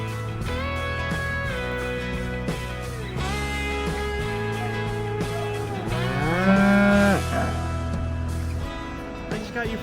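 A farm cow moos repeatedly in long, loud, close calls at feeding time, the deep drawn-out lows following one another with short gaps and no talk.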